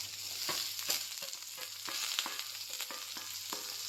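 Onions, garlic and ginger sizzle steadily in hot oil for a tomato curry, with a bright continuous hiss and quick, repeated clicks of a spatula stirring through the pan.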